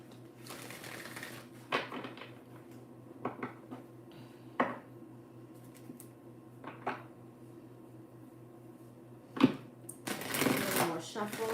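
Tarot cards being shuffled in several short riffling bursts with pauses between them, close up, ending in a longer flurry of shuffling.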